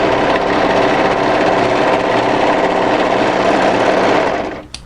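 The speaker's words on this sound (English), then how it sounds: "Overlock through, then rematch the garment at the neck edge." An overlocker stitches steadily through the neck edge of a winter sweater, a close, continuous high-speed whirring hum that runs evenly for several seconds before cutting off abruptly near the end.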